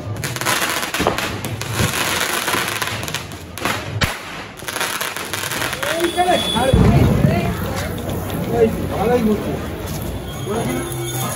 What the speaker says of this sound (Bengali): এদিকে সবাই বাজি পোড়াচ্ছে